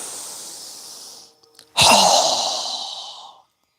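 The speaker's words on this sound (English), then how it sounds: "Strong exhale." A strong, forceful exhale during yoga breathing follows a softer breath, a loud airy rush lasting over a second before trailing off, close and alone with no talk.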